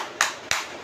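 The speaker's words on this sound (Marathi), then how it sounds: "टाळ्या वाजव, टाळ्या वाजव, टाळ्या वाजव." Two sharp hand claps, sounding close and bright, land about a third of a second apart on a quiet background.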